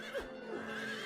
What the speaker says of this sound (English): So these aren't like fake things neighing. These are real horses